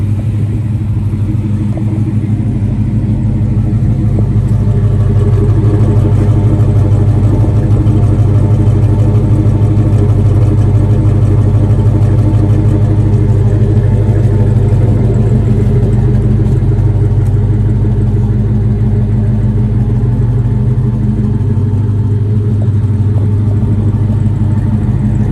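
A 1971 Chevrolet Chevelle engine idles steadily for the whole stretch, a deep, even rumble with a low throb and no talking over it.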